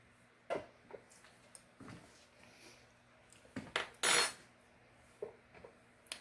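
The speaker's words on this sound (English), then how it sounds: "The chocolate's starting to melt. Trying to speed it along by mixing, mixing a little bit." A utensil stirs chocolate melting in a small pan or bowl, giving scattered light clinks and scrapes separated by quiet pauses, with one brief, brighter scrape standing out.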